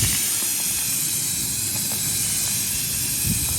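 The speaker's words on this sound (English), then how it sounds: "Silicone's being applied, high pressure, airless sprayer." A high-pressure airless sprayer applies silicone roof coating over an existing built-up asphalt roof, giving a steady, loud, continuous hiss with no break and no talk.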